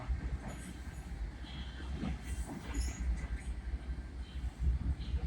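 A Long Island Rail Road train pulling into Mineola, heard from on board as a continuous low rumble of wheels and car body with faint squeals and rattles over it, steady and close, with no voices.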